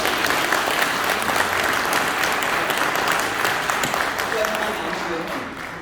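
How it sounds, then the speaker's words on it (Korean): A seated crowd at a humanities lecture held by a Daegu–Gyeongbuk residents' association in Seoul gives sustained, dense applause with a few voices mixed in, the clapping gradually thinning and fading near the end. "일단 박수 한번 치시죠"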